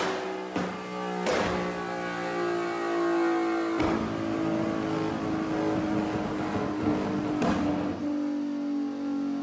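A Nissan Fairlady Z 370Z with the 3.7-litre VQ37 naturally aspirated V6 revs steadily, a loud, droning engine note held throughout with a few sharp blips where the revs jump, close by and with no talking.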